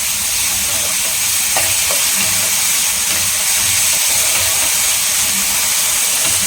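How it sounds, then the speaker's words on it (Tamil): Potato masala for samosa filling sautés in a pan, giving a loud, steady sizzle and hiss with occasional scraping stirs, close and continuous with no voices. "நல்லா வதங்கட்டும்."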